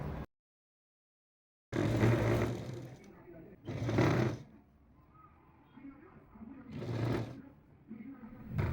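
A domestic sewing machine stitches the folded lining hem of a chudidar top, running in three loud bursts separated by quieter pauses, close by.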